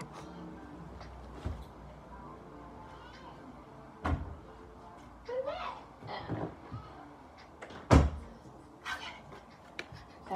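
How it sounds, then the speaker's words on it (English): A bedroom door is pushed shut, giving a few separate knocks and thuds at close range, with quiet rustling and handling noise between them. "Okay, let me close my door."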